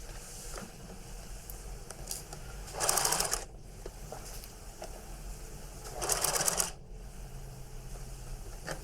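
A sewing machine stitches a waistcoat seam in two short, close runs of about a second each, with quiet handling noise between them.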